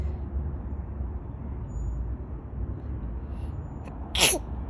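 A young child sneezes once, sharp and brief near the end, over a low rumble of traffic or vehicle noise outdoors.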